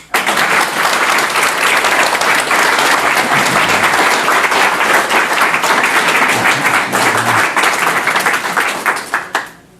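An audience claps steadily and warmly as storyteller Jim Brewer is welcomed for his final outing, a dense, sustained round of applause filling the room that tapers off abruptly near the end, with no voices over it.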